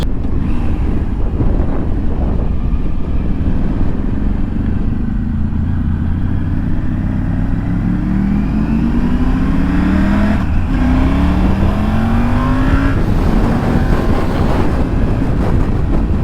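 Steady, loud wind buffeting over a Triumph Tiger 900 GT motorcycle on the move, with a low engine drone rising in pitch as the bike accelerates, continuous throughout with no talk.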